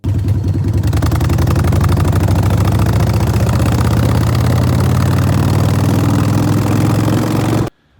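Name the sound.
motorcycle engine idling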